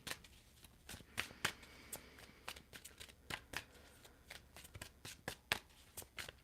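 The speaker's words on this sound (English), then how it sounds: "All right, I'm going to pull just one card today." Tarot cards being shuffled by hand in a series of quick riffling and tapping bursts, fairly quiet and close, with no talking over them.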